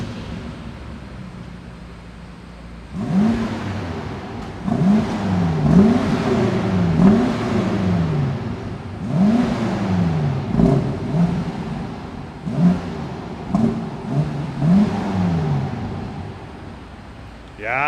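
Engine of a 2023 BMW X6 M Competition SUV coupe with Larte Design upgrades, revving repeatedly in a stationary sound check, with rising and falling blips over a steady idle, loud and close.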